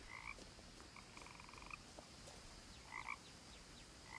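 Frogs croak in the video game What Remains of Edith Finch, scattered short chirping calls in pairs and a rattling trill over a steady low night ambience, faint and with no talk.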